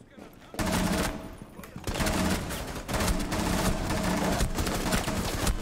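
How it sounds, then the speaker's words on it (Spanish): Rapid bursts of gunfire in the video game Rainbow Six Siege, loud and close, coming in several sustained volleys with short breaks between them. "Ahí va, que me dispara por la espalda"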